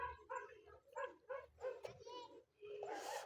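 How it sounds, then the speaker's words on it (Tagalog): A dog barks at night near a spot for spearfishing in the Philippines, a few short yaps mixed under close talking voices. "lintik na aso, siging tawol"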